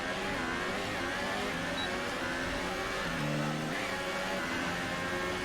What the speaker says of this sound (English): Missed a shift there, or double shifted.